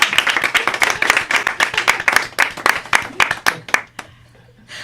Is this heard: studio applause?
yes